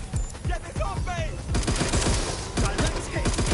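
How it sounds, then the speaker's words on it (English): Rapid bursts of video game gunfire crack out in dense volleys, sometimes overlapping like automatic fire, loud and close, with game voices and electronic effects mixed in. "Gunfire!"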